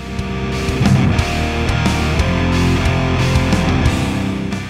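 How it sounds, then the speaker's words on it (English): Heavily distorted electric guitar through a Mercuriall U530 amp plugin with high lead gain, chugging rhythmic palm-muted chords with sustained ringing notes, loud and dense throughout. "Increase lead gain to drive the preamp harder and create more distortion."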